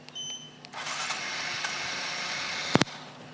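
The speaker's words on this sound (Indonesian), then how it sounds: "Kita akan coba menghidupkan motor dalam kondisi netral menggunakan remote ini." Honda Supra motorcycle engine starting by remote while in neutral: a brief cranking burst that settles into a steady idle hum for about two seconds, closing with two sharp clicks or blips, moderately near with no talk.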